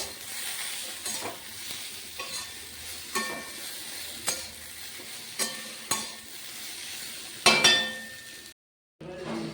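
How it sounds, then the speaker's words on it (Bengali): Potatoes and eggplant fry in a wok of mustard oil with black cumin and green chillies, a steady close sizzle punctuated by regular spatula scrapes and stirs, a metallic clink near the end, then a brief silence. "কড়াইতে সরষের তেল দিয়ে কালো জিরে কাঁচা লঙ্কা ফোড়ন দিয়ে আলু বেগুন দিয়ে দিয়েছি, ভাজা ভাজা করছি।"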